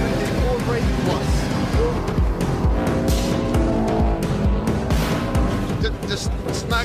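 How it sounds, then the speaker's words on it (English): A Subaru Impreza rally car is driven hard, its engine roaring in a steady, dense, close-up drone with rapid gear and throttle pulses throughout. A voice talks faintly underneath. "As I attempted to tame the Impreza"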